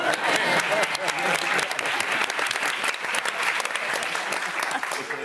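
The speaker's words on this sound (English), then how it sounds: "Applaud." Audience applause fills a Cannes Film Festival press conference room, dense and sustained clapping at close range, steady from start to finish.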